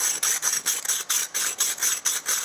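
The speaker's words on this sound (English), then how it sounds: "you'll hear the change in the tone where the silicon carbide's been cutting into the gallery and wearing away" Silicon carbide abrades fired metal work as the piece is turned by hand, giving a rhythmic rasping scrape in short repeated strokes, about five per second, close and fairly loud.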